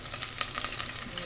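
Garlic fries in a pan with a loud, close crackling sizzle, bursts of spitting pops scattered over a steady hiss, with nobody speaking.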